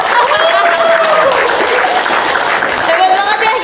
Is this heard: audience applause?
yes